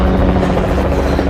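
A helicopter in a monster film scene, its rotor throbbing loudly and steadily up close, with a heavy low-pitched whirring filling the whole moment.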